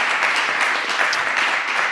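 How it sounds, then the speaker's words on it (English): An audience at an astronomy talk night gives a burst of dense, continuous applause, loud and close, with no talk over it. "Let's have a round of applause for our panel and our speaker."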